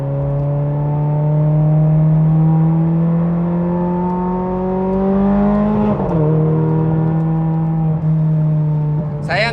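A Ferrari 430 sports car with single-clutch gearbox revs while driving, a loud steady engine tone climbing in pitch, dropping sharply at a gear change, then rising again, heard from inside the car.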